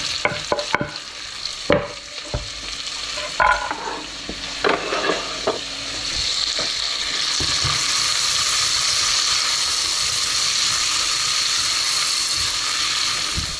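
Bacon, onion and garlic fry in a pan for a chicken and 'nduja risotto, with a few stirring clatters early on before a steady, loud sizzle takes over and holds to the end.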